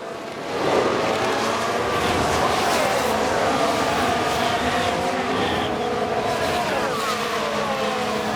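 Formula 1 race cars in the F1 Manager 23 racing game roar past one another in a steady, loud engine drone with a brief tire squeal, under ongoing commentary.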